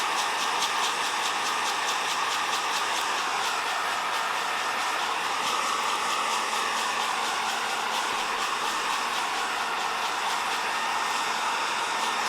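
Coffee beans roast in a popcorn popper, turning peanut-colored as first crack begins, with faint scattered cracks buried under the popper's loud, steady hot-air fan roar throughout.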